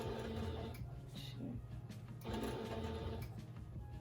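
A sewing machine stitches a fabric face mask, its motor whirring in steady rapid bursts that stop and restart when the needle is left down to pivot, close and clear with no voices.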